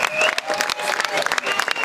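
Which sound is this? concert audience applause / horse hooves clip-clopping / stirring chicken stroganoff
concert audience applause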